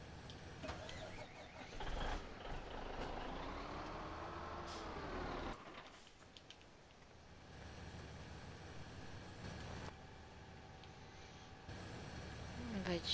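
A heavy truck engine in the video game Farming Simulator 17 rumbles steadily, breaks off with a hiss of air partway through, then idles lower and builds again.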